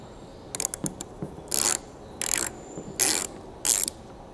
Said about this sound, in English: take off these rubber covers, and I use a T15 Torx bit to do so